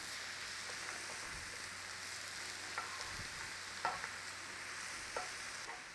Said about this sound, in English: Just gentle turnover, saute your cabbage and onions together.